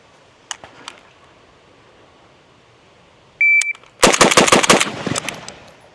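A Zastava M92 rifle fires GROM ammunition in a rapid burst of sharp, loud shots, preceded by a couple of faint clicks and a brief electronic beep, with the reports ringing out for about a second.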